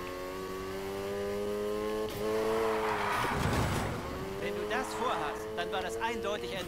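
A car drifts in the Need for Speed Heat video game, its engine droning steadily before a loud burst of tire squeal and skid noise in the middle, with someone talking over it.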